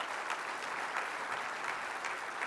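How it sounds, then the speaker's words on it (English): Dense, steady applause from an indoor audience at a county government address, clapping loud and continuous throughout without a break. "Give them a big round of applause."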